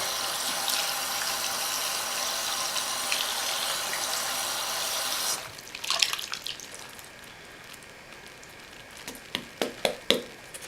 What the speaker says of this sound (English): Let that water out.